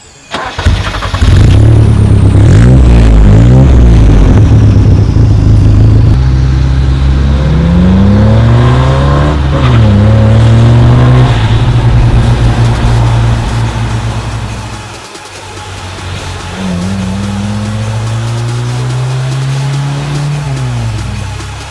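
A second-generation Toyota Celica GT starts and drives off, its engine revving up and down through the gears with loud, close rising and falling pitch, easing briefly before pulling again.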